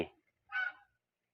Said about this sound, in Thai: การเลี้ยงปศุสัตว์เลี้ยง ห่านเลี้ยงเป็ดนะครับ